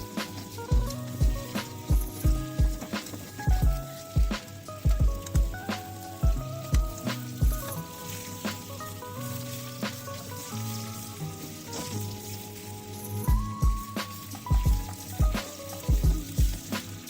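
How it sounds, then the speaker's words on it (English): Eggs frying in a pan for egg biryani, with a steady close sizzle and bursts of popping and spitting oil in a rough repeating rhythm, and no talk. "Make sure to turn the eggs so that they are evenly fried from all the sides."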